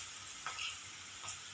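Green chillies splutter in hot oil in a pan, making a steady, faint sizzle with small crackling pops up close and no voices.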